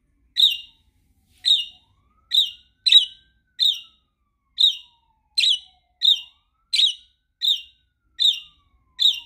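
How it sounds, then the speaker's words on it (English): Parakeets give a steady series of sharp, bright chirps, about a dozen evenly spaced calls over several seconds, close and clear against silence. "Bird."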